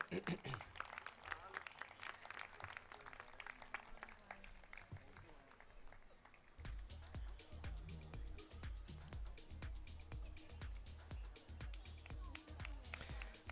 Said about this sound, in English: A huge round of applause for Amin